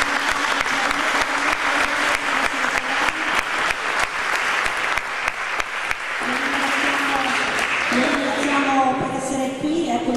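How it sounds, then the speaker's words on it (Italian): Loud audience applause at a sailing gala, dense continuous clapping from a large crowd with a voice speaking over it through much of the stretch and music or speech emerging near the end. "vi chiedo già un applauso"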